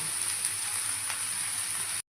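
Chopped carrots and beans fry in a pan with a steady, even hiss of sizzling oil, close and moderately loud, alone without talk, before stopping abruptly.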